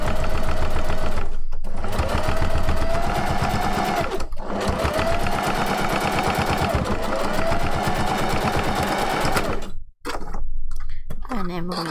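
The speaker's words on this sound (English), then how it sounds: "I am going to sew over the exact same bit that I've just sewn." A sewing machine stitches fabric for a fursuit kitsune fox tail, running loud and close in steady bursts with two brief pauses before stopping near the end, followed by a few faint handling sounds.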